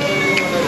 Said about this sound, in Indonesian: Onyok, ada kucing.